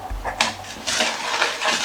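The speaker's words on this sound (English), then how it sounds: "now we're going to whisk this together." A whisk clatters through zucchini muffin batter in a bowl, a few quick metallic scrapes and knocks in short bursts, close and fairly loud, with no talking.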